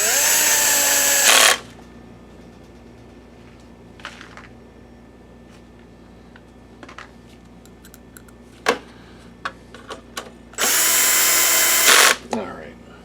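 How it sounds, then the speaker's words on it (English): A power screwdriver drives case screws into a Sanyo PLC-XM150L LCD projector during repair, two loud whirring bursts at the start and near the end, with quiet clicks and handling noises between. "let me put these two screws back in"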